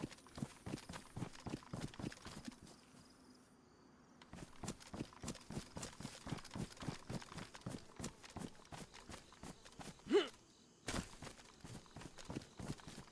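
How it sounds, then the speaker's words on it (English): Steady footsteps inside a house in the video game DayZ, faint and evenly paced, pause briefly, then resume in a regular rhythm alongside a soft background hum. "I heard footsteps in the house."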